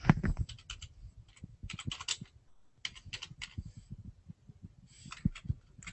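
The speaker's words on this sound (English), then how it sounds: "I'm just typing in Bixby Farm Ranch keywords." Fast clattering keystrokes on a computer keyboard, close and crisp, coming in quick bursts separated by short pauses.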